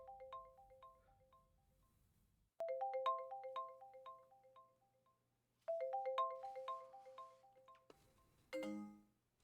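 Mobile phone ringtone sounding three times, each a bright, repeating electronic melody that fades out before restarting, with a brief rustle at the end; no speech.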